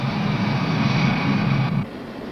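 A Pan American jumbo jet, the Clipper Storm King, roars with a steady, loud engine drone that drops off abruptly near the end, with no speech over it.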